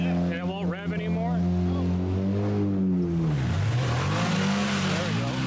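A car engine revs hard while stuck in a snowy driveway mud bog, its droning note rising and falling steadily close by, with voices faintly under it.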